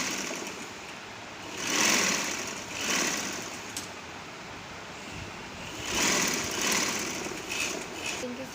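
A sewing machine stitches the seam of a kurti in short runs, each one a whirring, rattling burst of a second or so that rises and falls between quieter pauses, close by and with no talking.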